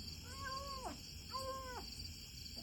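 A stray cat meows twice, each call a drawn-out, falling cry with a short pause between, heard fairly close over a steady background hiss.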